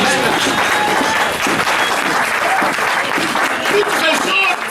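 A church congregation breaks into sustained, dense applause that fills the space, loud and continuous from start to finish, with voices mixed in under the clapping.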